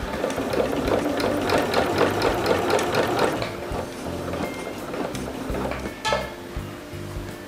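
A home sewing machine stitching a straight seam at half-inch allowance, a fast steady mechanical whir with needle chatter for several seconds, then slowing and stopping, followed by small clicks and handling noises.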